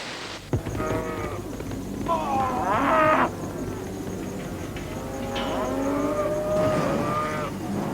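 Cattle lowing on a large cattle station in the Kimberley region of Western Australia, several drawn-out moos from nearby animals, fairly loud and carrying over a steady outdoor background.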